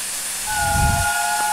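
A steam locomotive's brakes hiss in the RailWorks train simulator, with a broad, steady rush rising to a swell mid-clip while a thin whistle-like tone runs beneath, no talk.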